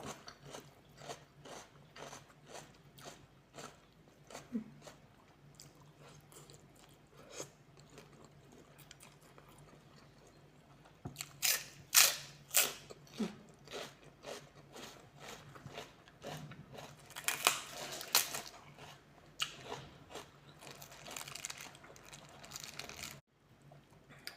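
Crunchy lotus stems are chewed up close alongside spicy som tum with rice noodles, giving a run of crisp, rhythmic crunching bites that grow louder and denser midway, with short pauses between bursts.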